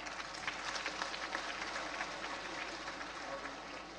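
Audience applause for Ruma Devi at a large public gathering with the President, a dense, fairly faint, continuous clapping from a crowd heard at a distance.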